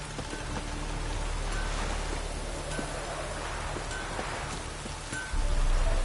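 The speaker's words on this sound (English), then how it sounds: "It's raining." Steady rain in the Witcher 3 video game, a continuous broadband hiss of falling drops with soft rustling, holding at an even level and swelling slightly louder near the end.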